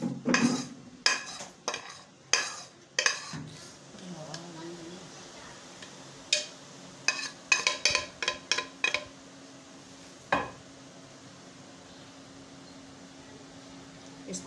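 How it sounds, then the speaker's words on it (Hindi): A spoon clinks and scrapes against a metal pot while ingredients are stirred into milk for ice cream, with bursts of sharp knocks separated by quieter pauses, close by and without talk. "ये सारी चीज़ें इसमें डाल देंगे और इसको मिक्स कर देंगे।"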